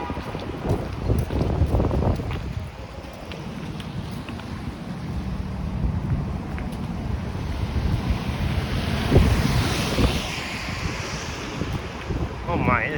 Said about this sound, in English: Oh my, it is getting a bit windy here.